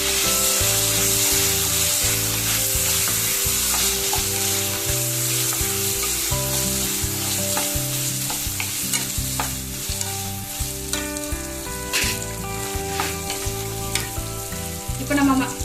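Diced potatoes sautéing with ginger garlic paste in a pan for a Tamil-style thayir kurma, a steady loud sizzle with repeated scraping and stirring strokes throughout, no voices.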